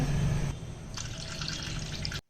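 Water poured steadily into milk to make a batter for chicken snacks, a short continuous splashing pour at moderate volume that cuts off abruptly.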